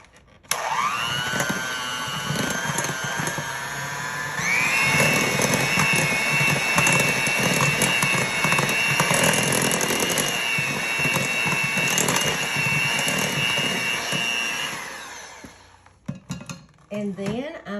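An electric mixer whirs steadily while beating banana bread batter with butter, a loud continuous motor hum that rises in pitch partway through, with faint scraping and rattling, before cutting off near the end.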